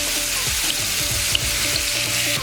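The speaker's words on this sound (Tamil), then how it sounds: "மீன் பார்த்தீங்கன்னா நல்லா ஆஃப் பாயிலாக பொரிச்சு வச்சாச்சு" Fish being shallow-fried until half-done on a tawa for vilai meen biryani, a continuous close sizzle with a soft watery hiss and a few faint clicks over two and a half seconds, with no voices.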